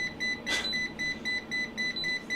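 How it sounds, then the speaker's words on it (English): Repeated short electronic beeps from a Zoyi ZT-1000R insulation tester warning of over range, in a steady rhythm, about eight evenly spaced tones, with a brief click-like burst early on. "the beeping is obviously a warning to say, hey, it's over range"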